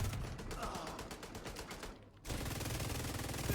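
Fast-firing automatic weapon in the shooter game The Division 2, a dense continuous rattle of rapid shots with a brief gap before firing resumes, loud and up close.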